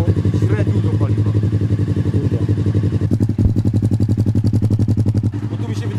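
A motorcycle engine idles roughly and unevenly at low revs with a carburettor needing synchronisation, its loud close chugging beat stumbling and lurching as it threatens to stall, with someone talking over it.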